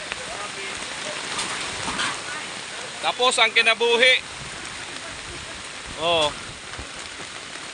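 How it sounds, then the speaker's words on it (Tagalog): Steady, dense rain hisses throughout while someone speaks briefly twice over it. "lumakas na naman po ang ulan"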